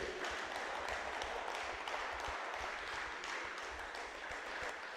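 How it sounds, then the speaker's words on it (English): At a rugby reunion gathering, an audience claps in a dense, even wash for the full five seconds, heard at a moderate distance. "Give him a big round of applause"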